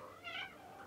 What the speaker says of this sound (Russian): Этот самый любимый котенок у Алисы.